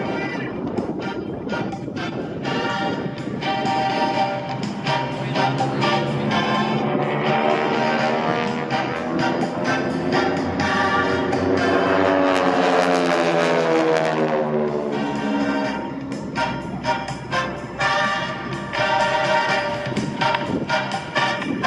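Titan Aerobatic Team propeller airplanes with 600-horsepower motors flying at the Dayton airshow, engine drone swelling as the planes pass close and fading away, loud and continuous.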